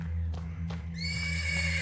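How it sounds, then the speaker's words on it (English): A horse whinnies in a video game stable in Black Book, a high, wavering neigh that rises clearly over a steady low hum and soft clip-clop, close and loud, with no talking. "persistent neighing of a horse can be heard from the stables"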